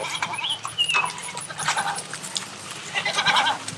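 Hungry goats bleat repeatedly just before feeding, several wavering calls overlapping at close to middle distance with some jingling and rustling around them.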